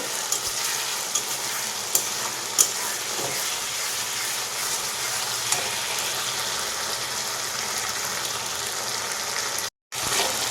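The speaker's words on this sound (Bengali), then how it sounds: "মশলাটা ভাজা হয়ে ভালো করে ভাজা হয়ে যাওয়ার পরেই কিন্তু তবেই কিন্তু হলুদটা দেবো" Masala spice paste fries in a kadai for a homemade chicken curry, a loud continuous sizzle broken by scraping, clacking strokes of a spoon stirring it, with no talking.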